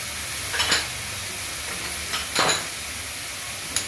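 Chopped carrots, ginger, peas and beans being stirred in a pan, a few scraping spoon strokes against the metal over a faint background sizzle, close and alone.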